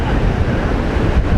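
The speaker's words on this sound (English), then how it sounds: "The wind is good for kite surfing today, but the waves are not." Wind and surf at Nai Harn Beach, Phuket, on a windy kite-surfing day: a steady, loud wash of wind buffeting the microphone over breaking waves, continuous through the whole short stretch with no clear voices.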